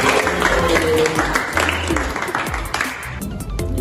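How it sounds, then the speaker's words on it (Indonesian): A class in a group counseling session claps along with rhythmic chants, busy close-up clapping mixed with many voices chanting together throughout. "Tepuk siang, tepuk pagi, tepuk malam."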